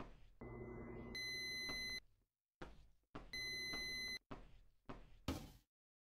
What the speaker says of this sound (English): Is that my oven beeping?